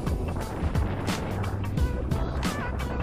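Road traffic on a street in Taiwan, heard from a Vespa GTS 300 scooter: a continuous wash of engine noise and tyre rumble with vehicles passing close by, fairly loud and steady.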